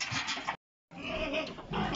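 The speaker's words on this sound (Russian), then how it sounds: "а эти все сюда смотрят и мычат, пить хотят так" Thirsty cows in a barn low and grunt in rough, close bursts, broken by a short gap of silence before the calls resume, loud and overlapping.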